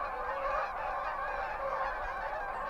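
Canada geese honk in a dense flock, their overlapping calls forming a continuous, fairly distant chorus of nasal honks with no speech.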